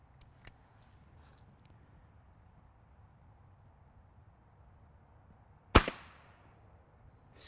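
A Swedish arrow pistol looses a broadhead arrow, giving a single sharp, loud crack and impact that rings out briefly against a quiet background, preceded by a few faint clicks.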